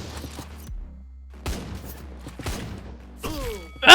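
Gunfire in the fast-paced movement shooter game No Scope Arcade: a few sharp, separate shots spaced about a second apart over a low hum, ending in a bright rising electronic sweep.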